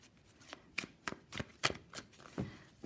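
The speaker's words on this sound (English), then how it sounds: "it does actually feel like it shuffles nicely" Tarot cards shuffled in a series of quick, crisp riffling bursts, close and fairly quiet, with short pauses between each pass.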